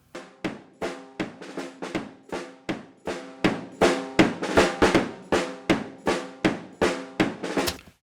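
A drum groove captured as a lo-fi track on a very cheap mic, with regular punchy hits in a steady pattern, boxy and compressed, growing slightly louder midway, with no talking.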